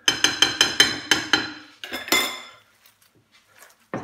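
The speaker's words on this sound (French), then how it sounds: "Alors on va mélanger d'abord à la cuillère" A spoon clinks repeatedly against a bowl while Niçoise stuffing is mixed, about seven quick, evenly spaced metallic taps, then a few slower scrapes and knocks, close and fairly loud, with no talking.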